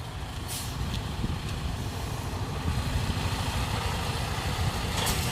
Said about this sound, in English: we're still blocking the truck from moving anywhere.